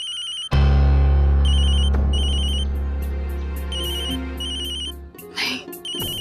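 A telephone rings loudly and close, repeated electronic bell bursts in a regular rhythm over a deep sustained musical tone, with a short rustle near the end and no voices.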